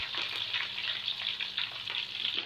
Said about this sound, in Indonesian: Kita tumis hingga bawang merah ini berubah warna